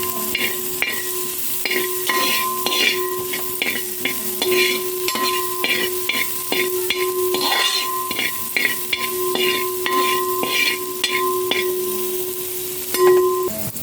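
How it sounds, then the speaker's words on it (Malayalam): Sliced onions sautéing with salt in a pan on a gas stove for a rice dish, a steady close sizzle and hiss broken by repeated scraping clicks of a stirring spoon, no voices. "ഇനി ഈ സവാള നന്നായിട്ടൊന്ന് വഴച്ചെടുക്കാം കുറച്ച് ഉപ്പിട്ട് കൊടുക്കാം"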